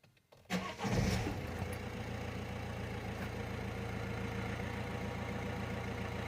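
A diesel car engine cranks briefly on the ignition, catches, and settles into a steady, rattly idle that continues close by with no talk.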